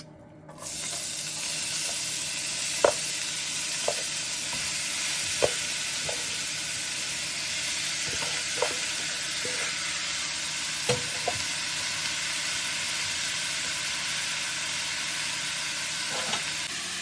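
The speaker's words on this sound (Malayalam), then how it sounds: "ചൂടായി വന്ന വെളിച്ചെണ്ണയിലേക്ക് നമുക്ക് ഈ മിക്സ് മൊത്തമായിട്ട് ആഡ് ചെയ്യാം" A broccoli and spinach mix frying in hot coconut oil gives a steady, hissing sizzle. A spoon scrapes and taps against the pan now and then as the mix is stirred, with no voices.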